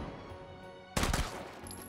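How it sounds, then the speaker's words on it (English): A short burst of submachine gun fire in the VR shooter Hot Dogs, Horseshoes & Hand Grenades, several rapid close shots packed into a fraction of a second, then a quiet hum. "Good accuracy on this submachine gun."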